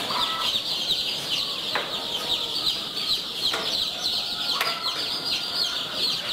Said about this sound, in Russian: Вот десяточек цыплят кучинской юбилейной.